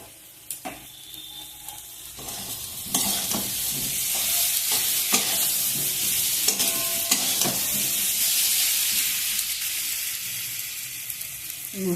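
Spice paste frying and being stirred in a pan, a steady sizzle with repeated scraping strokes of the spoon running throughout, close and fairly loud with no voices.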